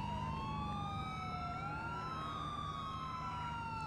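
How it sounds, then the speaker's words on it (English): A police car siren wails continuously in GTA 4, its rising and falling tone overlapping with a second siren pattern, steady and moderately faint over low engine rumble. "Can you turn your siren off?"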